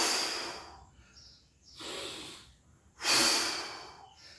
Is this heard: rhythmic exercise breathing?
yes